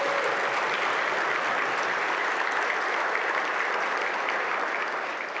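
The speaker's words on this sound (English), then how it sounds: "Can we give them a round of applause, please?" A forum audience claps in a dense, even round of applause that fills the room, steady and loud throughout before tapering slightly at the very end.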